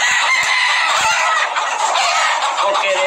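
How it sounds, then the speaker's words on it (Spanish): Chickens cluck busily and roosters crow, a loud, dense farmyard chorus of fowl calls close by. "estos dos gallos son muy buenos"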